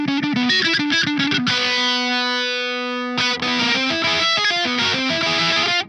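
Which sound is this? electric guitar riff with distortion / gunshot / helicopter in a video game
electric guitar riff with distortion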